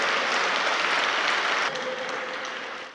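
An audience applauds loudly at a send-off event for a motorbike ride from Abu to Delhi; the dense clapping holds steady, then drops a little and thins toward the end.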